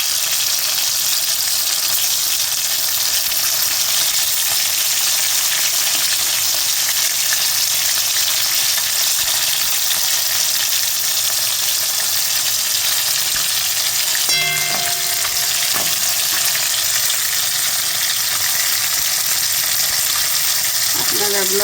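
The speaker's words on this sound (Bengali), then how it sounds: "মাছ ভাজা করছি বন্ধুরা" Fish frying in hot oil in a home kitchen, a loud continuous sizzle and crackle throughout with a brief clatter partway.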